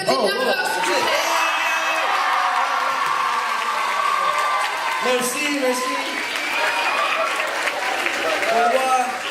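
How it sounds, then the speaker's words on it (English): Audience at a Paris fan convention panel clapping and cheering loudly and steadily throughout, with whoops and shouts in a packed room and a voice briefly speaking over the noise. "On les applaudit bien fort, s'il vous plaît."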